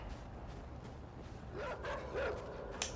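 In the game INSIDE, dogs bark and yip over a dense rumbling background, with the calls growing louder toward the end.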